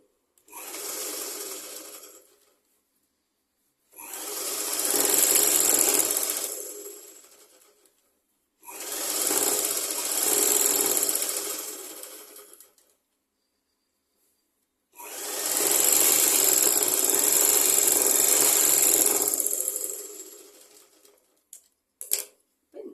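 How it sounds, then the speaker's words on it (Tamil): A sewing machine stitches a long top in four separate runs, each a loud steady burr lasting several seconds, with quiet pauses between them and a few clicks at the end. "இப்போ 2 தையல் போட்டுக்கோங்க."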